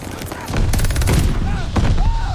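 Rapid automatic fire from an AS44 rifle with a 60-round magazine in a first-person shooter video game, loud, close bursts over about two seconds, with a voice talking over the shooting.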